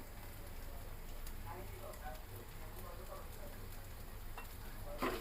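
Boiled noodles go into a hot frying pan and are stirred, giving a faint, even sizzle with soft scraping and a light clatter at the end.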